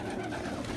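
Pigeons cooing softly nearby at a pigeon loft, a brief low murmuring coo with no voices over it.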